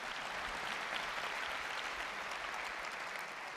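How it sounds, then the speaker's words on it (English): A large keynote audience claps in a sustained, fairly distant wash of applause that holds evenly throughout. "You can clap, it's good."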